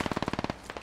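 Machine gun in the Project Reality video game fires a rapid, steady burst of about nine shots, then pauses briefly before two more shots, loud and close with no other sound.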